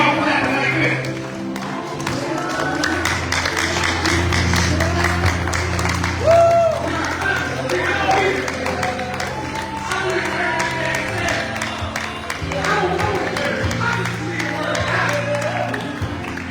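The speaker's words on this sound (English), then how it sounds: "See y'all clapping like this." Church audience clapping at a prophetic night service, steady applause and crowd noise running under music and a speaking voice throughout.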